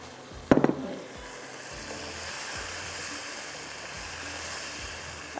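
Chicken frying in hot oil for a Chicken Angara recipe gives a steady, soft sizzling hiss, opened by a brief clatter as pieces drop into the pan.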